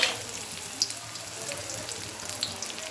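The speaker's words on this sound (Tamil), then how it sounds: "கடாயில் எண்ணெய் ஊற்றி எண்ணெய் காய்ச்சதும் 2 கட்டு பெருங்காயம் போட்டு உளுந்தம்பருப்பு, வரமிளகா" Asafoetida, urad dal and dry red chilies crackle in hot oil in a kadai, a soft, steady sizzle with a few faint pops, fairly quiet and without speech.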